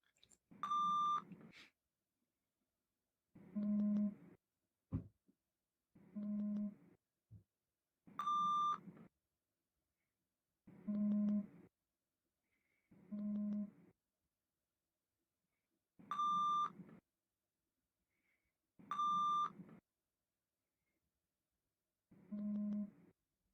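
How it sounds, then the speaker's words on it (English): Short electronic hearing-test tones sound one at a time with pauses between them, some higher and some lower pitched, clean and isolated in a quiet room. "Let me know when you hear those beeps."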